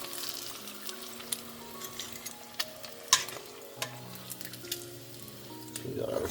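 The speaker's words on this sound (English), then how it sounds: "So we'll just fry these up real quick." Deviled eggs frying in a countertop deep fryer, a soft steady sizzle with scattered light clicks and taps of utensils, fairly quiet and close, with faint background tones.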